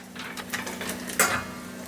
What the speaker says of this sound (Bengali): এগুলো একটু ফোড়ন দিব, মানে হালকা করে একটু ভেজে নিব আর কি